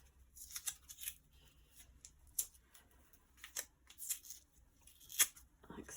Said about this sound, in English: So I'll undo this tape.